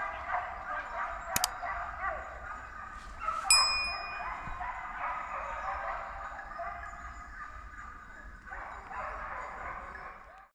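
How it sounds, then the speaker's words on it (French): During a driven boar hunt, hunting dogs that have just flushed a wild boar bay and yelp continuously in the woods at moderate distance, a layered chorus of barks and whines with a few sharp knocks. "les chiens ont débusqué un sanglier juste devant moi"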